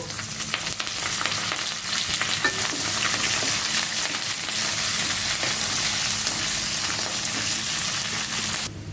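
Medium-sized onion pieces and curry leaves fry in a hot pan for a banana fry dish, giving a loud, steady, close sizzle with light crackling throughout and no voices.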